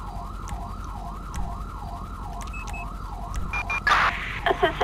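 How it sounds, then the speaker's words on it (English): An ambulance siren in Grand Theft Auto V wails in a steady rising and falling cycle, fairly loud and continuous, with a few short beeps and game noises near the end. "I think the ambulance is stuck down there. No, it's making its way up."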